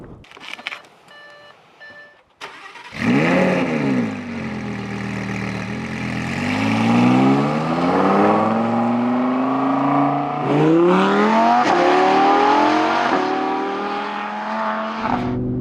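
A few electronic beeps, then the V10 engine of a 2017 Audi R8 V10 Plus fires up with a roar and pulls away, revving through several gears as it accelerates loudly.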